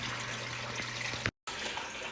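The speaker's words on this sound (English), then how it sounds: "once this bell siphon fills up, which it has, and this will return water back to the fish, clean and oxygenated" Water from an aquaponics bell siphon drains back toward a fish tank, a steady broadband rush and trickle that runs throughout at moderate level, broken by one brief silent gap.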